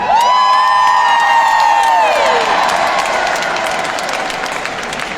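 A large crowd at an outdoor recovery rally cheers, whoops and applauds loudly and continuously, with shrill sustained shouts rising above dense clapping before easing slightly.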